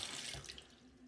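Water runs from a tap into a sink, giving a steady, soft splashing rush with no pauses during the short moment captured.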